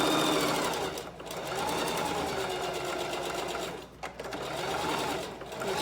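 Sewing machine stitching fabric in steady, loud mechanical runs, pausing briefly twice before the motor starts up again.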